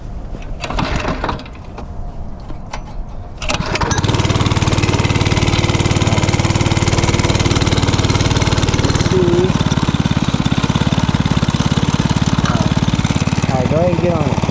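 A small mini bike engine is pull-started and settles into a loud, steady buzzing idle after a few seconds of rattling and voices, with people talking over the running engine.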